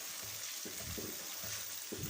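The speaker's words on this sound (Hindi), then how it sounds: "अब इसको हम अच्छे से मिक्स कर देंगे और अच्छी सी भुनाई करनी है हमने चम्मच की मदद के साथ" Chicken shinwari karahi stir-fried with a spoon over high heat, a soft continuous sizzle broken by faint repeated scrapes and stirring strokes, with no talk.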